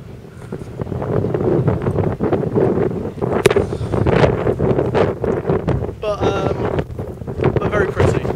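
Strong gusty wind buffets the microphone continuously at Easedale Tarn in the Central Fells, a rough blustery roar with brief rattling flaps and a faint voice underneath.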